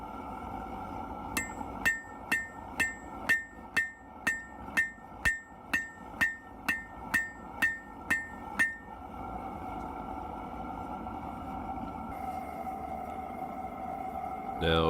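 A hammer forges a leaf on an anvil, about fifteen evenly spaced ringing metallic blows in a steady rhythm, close and bright, then stopping as a low burner roar carries on underneath.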